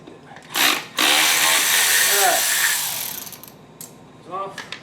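A left-hand thread nut being tightened on a Pontiac G8 cooling fan, giving a close, steady ratcheting whir for about two seconds between short bursts of mechanical clicking.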